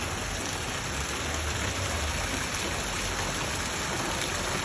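Heavy rain pours down in a dense, unbroken hiss that holds at a constant loudness throughout, close by and with no voices over it.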